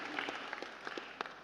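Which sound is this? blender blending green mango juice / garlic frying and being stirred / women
women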